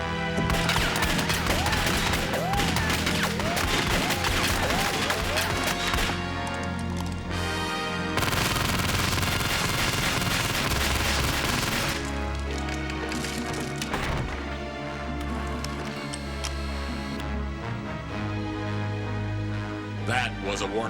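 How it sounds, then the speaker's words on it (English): Gunfire in a police bust, including a warning shot, rings out as dense, loud bursts of shots over a steady music score, with a short lull mid-way before the heavy, continuous layered sound returns. "That was a warning shot."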